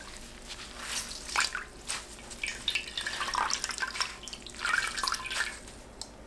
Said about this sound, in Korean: 5분 후 물이 뚝뚝 떨어지지 않게 짜서 준비합니다.